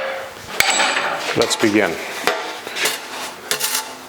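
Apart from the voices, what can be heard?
shoe hammer working a metal car grill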